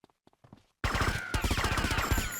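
Gunfire in the Grand Theft Auto Vice City video game: a quiet start with a few faint taps, then a sudden loud burst of rapid repeated shots in a fast, even rhythm, close and continuous to the end.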